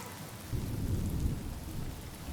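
Steady rain with low thunder rumble in a cutscene of the video game Honkai: Star Rail, a dense continuous downpour with a deep rolling swell, no voices.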